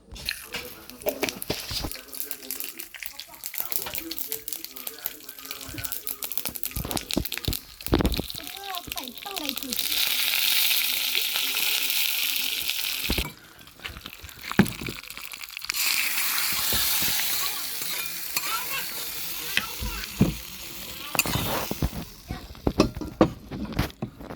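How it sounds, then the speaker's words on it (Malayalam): Mustard seeds are tempered in hot oil for a raw mango pachadi, giving bursts of bright hissing sizzle mixed with crackles and clatter. Talking can be heard through parts of the clip. "ഇതിലേക്ക് കടു താളിച്ചിടാം"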